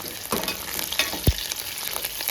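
Crushed fresh garlic cloves fry in a chilli oil tempering with a continuous soft sizzle, close by, broken by a few sharp crackles and a single thud of a stir or utensil.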